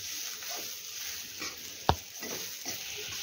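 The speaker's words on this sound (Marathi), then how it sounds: "आता यामध्ये आपण 2 चमचे सुके खोबरं आपण किसून घालणार आहोत आणि तेही या कांद्याबरोबर आपण ते फ्राय करून घेऊया" Grated dry coconut frying with onions in hot oil: a steady, soft sizzle with faint stirring scrapes and one sharp clack of a utensil, close by and moderately quiet.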